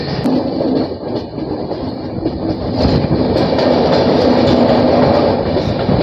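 A long-distance Indian passenger train between Coimbatore and Silchar, heard beside the open carriage door, rumbles along steadily, wheels clattering over the rails with a loud, continuous roar that swells slightly midway.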